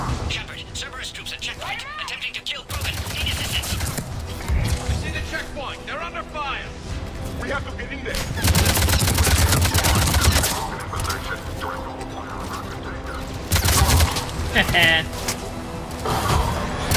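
Gunfire from the video game Mass Effect 3 during a firefight on Sur'Kesh, with repeated loud volleys and blasts swelling in bursts amid continuous battle noise and talking voices throughout.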